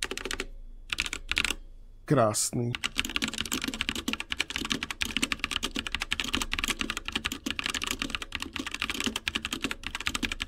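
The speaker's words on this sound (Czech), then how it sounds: "Tak si pojďme společně dát sound test týhle klávesnice." Fast typing on a cheap plastic mechanical keyboard, a steady dense clatter of key presses close to the microphone, preceded by a few isolated clacks and a brief spoken word.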